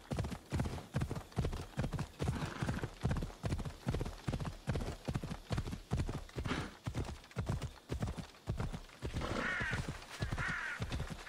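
Steady rhythmic hoofbeats of a galloping horse in the video game Assassin's Creed Odyssey, evenly paced and close, with a few faint bird caws in the background.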